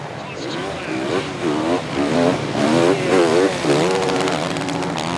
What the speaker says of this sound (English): You could just hear the engine roaring on that Yamaha 450